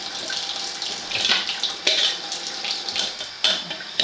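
Alkaline water pouring from a Tyent water ionizer, a close, steady splashing stream with fluctuating hiss and a few louder gurgles, running continuously for a few seconds without speech.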